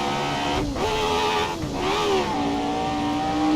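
Race car engine in a racing video game, on a long straight after leaving the pit lane, revving hard with dips in pitch where a gear shift is missed, loud and continuous throughout.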